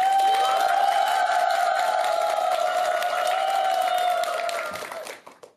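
Audience cheering and applause at a Buddhist dharma talk gathering at Bogaksa temple, a loud, dense crowd roar with a steady sustained tone running through it, holding level before fading away in the last second.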